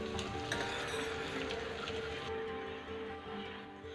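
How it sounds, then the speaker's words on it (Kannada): Thickly chopped medium onions fry in a pan for ghee rice, producing a loud, steady sizzle with some stirring, alone without talk, easing off slightly toward the end. "ಈರುಳ್ಳಿ ದಪ್ಪಗೆ ಹೆಚ್ಚಿರೋದನ್ನು ಹಾಕಿ ಇದು ಕಲರ್ ಚೇಂಜ್ ಆಗೋ ತನಕ ಫ್ರೈ ಮಾಡ್ತೀನಿ ಈರುಳ್ಳಿ."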